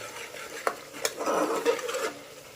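Spiced village chicken being stirred in a pan, with scraping spoon strokes and a couple of sharp clinks over a soft, steady sizzle of frying masala, close and moderately loud.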